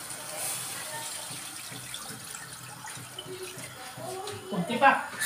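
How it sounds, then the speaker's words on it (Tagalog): Water poured into a cooking pot for chicken tinola with chayote, a steady soft stream that swells louder near the end, with voices talking over it. "lagyan na natin ng tubig."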